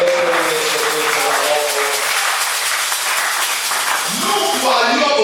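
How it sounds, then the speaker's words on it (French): A church congregation applauding steadily, a dense wash of clapping that holds at a constant level for several seconds, with voices mixed in beneath. "Acclamez pour le Seigneur."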